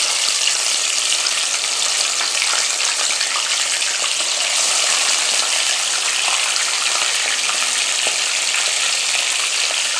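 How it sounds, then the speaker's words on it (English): Fish added to a hot pot for a Jamaican pineapple fish dish, frying in oil: a loud, steady, close hiss of sizzling that holds unbroken with no speech. "Adding my fish now to the pot."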